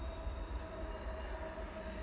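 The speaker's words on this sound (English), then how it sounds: "Hey, a train." A train rumbles past at close range, a loud continuous roar of wheels and rail noise with a steady whining tone on top and no voices.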